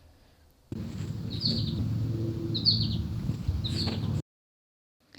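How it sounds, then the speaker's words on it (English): An American goldfinch gives three short, bright chirping calls at a steady interval, captured on a phone outdoors over a constant low rumble of passing traffic. "Aside from the yellow, you can recognize a finch by its call."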